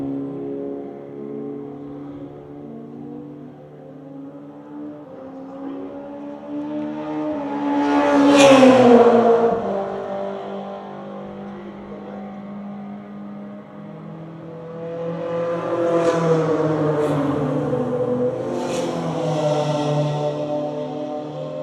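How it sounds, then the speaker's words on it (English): Race cars scream past the commentary box on the main straight of a circuit during the Border 100 race. Two loud passes rise and fall in pitch, one near the middle and another late, with engine drone between them. "Just listening to the cars going past the commentary box."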